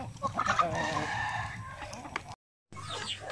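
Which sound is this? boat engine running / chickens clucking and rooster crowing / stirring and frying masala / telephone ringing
chickens clucking and rooster crowing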